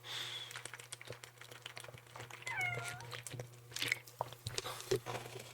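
A pet cat meows in a couple of short rising calls close by, between soft scratching and clawing taps over a low steady hum.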